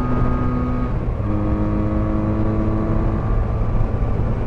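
A Benelli BN302 motorcycle engine drones steadily while riding, a smooth continuous hum with a stable pitch and a faint shift partway through, close and loud with wind noise beneath.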